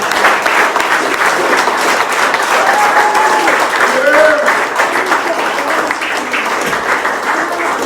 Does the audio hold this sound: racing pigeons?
no